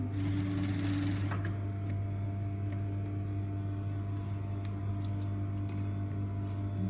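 A sewing machine stitches a seam with a continuous, even mechanical hum and rapid needle rhythm, fairly close and steady, with a brief faint rattle near the start; no voices.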